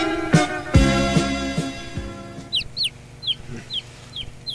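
Chickens on a farm cluck repeatedly, with a few low thumps at the start and sharp high squawks and clucks following in a quick irregular run, near and fairly loud.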